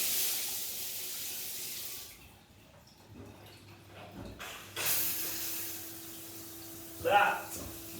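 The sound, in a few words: shower running water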